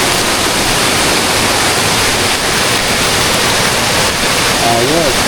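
A clear forest stream rushes steadily and loudly throughout, a constant wash of flowing water with a faint voice near the end.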